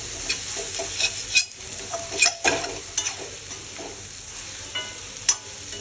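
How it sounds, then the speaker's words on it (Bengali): Masala spices fry in a pan while being stirred for chicken kofta, a close hissing sizzle punctuated by repeated scraping and clattering strokes of a utensil, with no one talking. "তো অলমোস্ট এখানে আমার মশলাটা প্রায় ফ্রাই হয়ে গেছে।"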